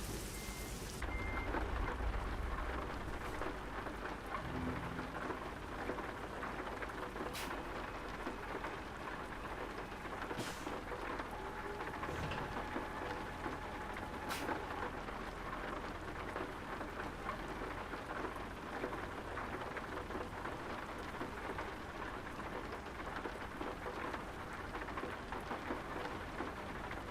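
Steady rain and rumbling thunder fill a racing video game scene. The rainfall runs continuously for the whole stretch, with occasional sharper cracks over it.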